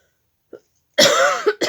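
After a faint short noise, a person coughs harshly up close, a rough burst followed quickly by a second cough.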